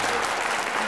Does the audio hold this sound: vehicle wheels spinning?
no